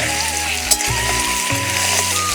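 Salted papaya pieces fry in oil with a continuous close sizzle, over a low steady hum and a few soft stirring knocks.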